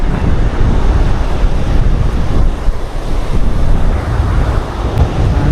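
Heavy surf roars continuously, with wind buffeting the microphone throughout; no voices, just a dense, steady wash of crashing water.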